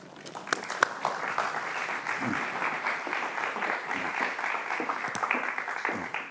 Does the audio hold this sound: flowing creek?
no